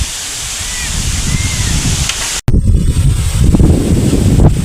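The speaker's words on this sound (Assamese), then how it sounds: "বেয়াকৈ বতাহ দি আছে" Strong wind buffets the microphone in a steady, rumbling roar, with a brief dropout midway before the gusting resumes.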